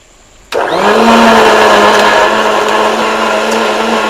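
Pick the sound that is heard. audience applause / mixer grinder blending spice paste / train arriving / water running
mixer grinder blending spice paste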